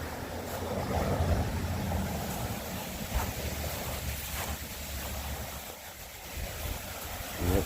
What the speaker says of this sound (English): See the waterfall right here.